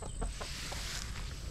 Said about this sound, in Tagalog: Mayroon tayong chicken.